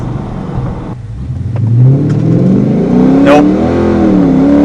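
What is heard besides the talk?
car tires spinning on acceleration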